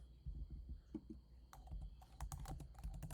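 Quiet typing on a computer keyboard: soft, irregular clusters of keystrokes that become busier and faster in the second half, with no talking.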